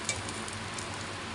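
Ginger sautés in a pan as the base for chicken soup, giving a steady close sizzle with a faint crackle near the start.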